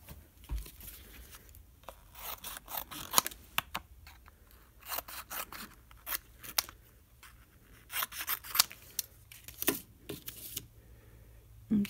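Scissors snipping in short irregular bursts of crisp cuts, with brief pauses between, close by and fairly loud.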